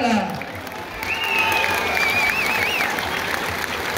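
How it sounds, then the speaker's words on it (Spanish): An audience at a jaripeo show in Santa Maria Xuchapa, Puebla, claps and cheers in a moderate wash of applause, with a long, wavering whistle rising over the crowd midway. "Si creen que me gané el aplauso,"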